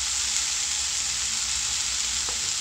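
Vegetables for radish chutney sizzle and crackle steadily in a hot pan, close up, with a brief scrape of stirring near the end.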